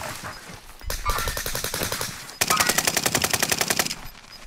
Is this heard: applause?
no